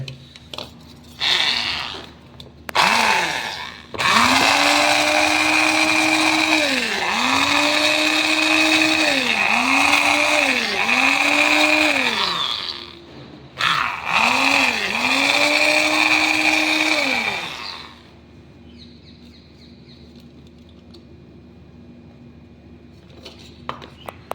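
A kitchen grinder whirs loudly as it grinds garlic and ginger, running in two long bursts with a short pause between them. The motor pitch dips and rises repeatedly under load, and after it stops only a faint hum remains.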